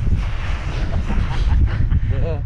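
Strong wind buffets across a frozen lake during ice fishing in the Ergaki mountains, a loud continuous low roar of gusts on the microphone throughout.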